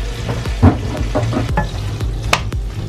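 Pork belly stir-fried in a pan with Japanese pizza sauce, giving a steady close sizzle broken by repeated scraping and stirring strokes of a spatula.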